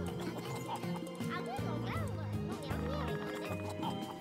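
Horse neighs and whinnies in Craft the World, the calls rising and falling over layered game music with steady hoofbeat-like clopping, set under someone talking throughout.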